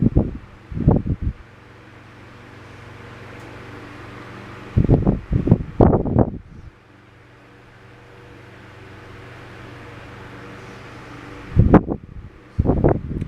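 A vintage Dominion 10-inch oscillating table fan, Model 2012, runs with a steady low hum and soft airy whir throughout, broken by a few short bursts of louder clatter or handling noise near the start, middle and end.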